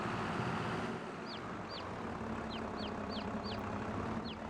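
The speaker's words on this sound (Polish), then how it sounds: "Kury, kaczki." Chickens and ducks in the Farming Simulator 22 game farmyard give a series of short, high clucking calls spaced a few per second over a steady hum of ambient farm noise.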